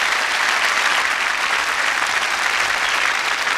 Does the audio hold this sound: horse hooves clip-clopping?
no